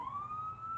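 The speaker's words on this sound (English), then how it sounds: "There's always ambulances. No joke, that flow past my house nonstop when I do lives." An ambulance siren passing a house, heard as a faint steady rising wail in the distance with no talk over it.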